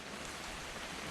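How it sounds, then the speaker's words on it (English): Steady rain falls in the video game What Remains of Edith Finch, a continuous dense hiss with no voices or other sounds over it. "It's gonna rain the whole weekend, isn't it?"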